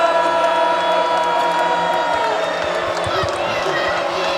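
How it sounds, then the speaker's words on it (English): Basketball arena crowd during a Gonzaga versus Texas A&M college game roars and cheers steadily while a commentator talks over the noise, with faint sneaker squeaks and bounces beneath. "Norvell trying to pump up the crowd on defense."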